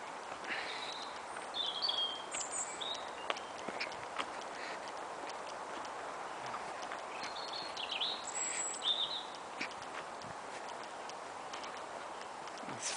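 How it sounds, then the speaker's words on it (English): Birds sing and chirp in a woodland near Talence, France, with scattered short high calls over steady background ambience and occasional ticking sounds, no talking. "You can hear the birds."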